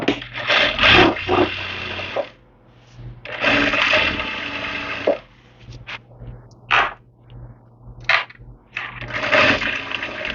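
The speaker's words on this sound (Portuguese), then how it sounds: "já fiz aqui uma costura por toda a volta" A sewing machine stitches a seam around the edge of fabric for an easy Christmas table runner, running in several loud whirring bursts of a second or two separated by short pauses and small handling clicks.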